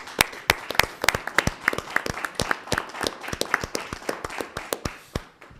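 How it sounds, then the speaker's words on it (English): A small group claps at a town board of selectmen meeting, sparse distinct claps in an uneven rhythm, fairly close, tapering off at the end. "she actually deserves a round of applause"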